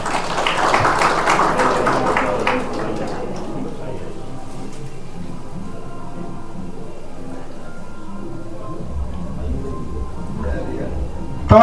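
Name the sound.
audience applause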